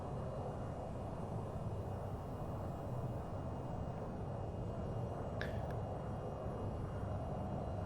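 Steady, dense jet engine roar from a VTOL jet hovering in place and preparing to lift off in the VTOL VR flight game, a constant broadband drone holding at even loudness throughout with no talk.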